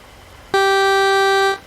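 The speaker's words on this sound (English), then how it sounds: "See? I can honk too" A truck horn honks once in American Truck Simulator, a loud, steady blare that starts abruptly, holds for about a second, then cuts off, with no talk over it.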